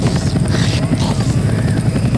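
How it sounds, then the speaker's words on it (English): Helicopter rotors in the video game Left 4 Dead chop in a steady, loud rhythmic thudding, continuous throughout with a dense whooshing wash. "It's a helicopter."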